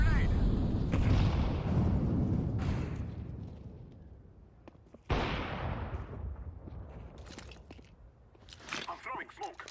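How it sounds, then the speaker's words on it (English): A grenade blast in Counter-Strike 2 during a competitive match, a sudden sharp burst midway after a rumbling stretch, followed by scattered clatter and shots while a player talks over the action. "Throwing a grenade."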